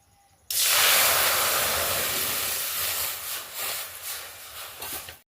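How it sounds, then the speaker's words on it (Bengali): Water hits a hot wok with a sudden loud burst of sizzling hiss that starts abruptly and then slowly fades and sputters over several seconds, close up, no talking. "এখন আমি কড়াতে জল দিয়ে দেবো"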